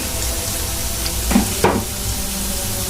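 Onions frying with cinnamon sticks in a pan for a Bangladeshi hotel-style chana dal, a steady close sizzle with a couple of brief stirring scrapes partway through.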